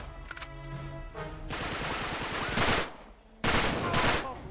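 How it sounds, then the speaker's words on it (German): Gunfire in the video game Uncharted 3: Drake's Deception, dense bursts of rapid shots crackling in sustained volleys, broken by a short quieter gap and a sharp burst near the start. "Ich befürchte, dafür brauche ich die Pistole"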